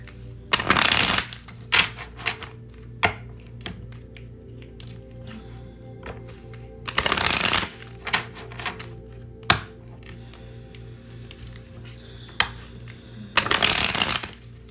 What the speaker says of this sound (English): I gotta cut this deck into quarters to shuffle it because they're so big.